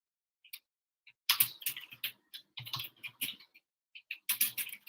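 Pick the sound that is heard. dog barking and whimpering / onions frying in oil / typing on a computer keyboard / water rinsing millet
typing on a computer keyboard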